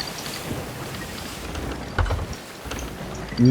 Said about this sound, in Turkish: Rüzgarın çıkardığı sesler çok korkutucu oluyor